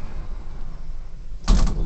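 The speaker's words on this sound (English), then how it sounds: "Doors closing." Kone lift doors, modernised by Jackson, at a shopping mall, closing with a short burst of sliding motor and rumble near the end, after a stretch of quiet cabin hum.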